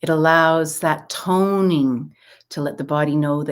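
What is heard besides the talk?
No everyday noise stands out behind the speech.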